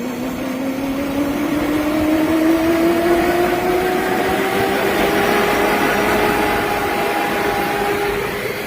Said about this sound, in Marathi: मोटर तर ऑन झालेली आहे. बघू RPM वगैरे पूर्ण घेते का.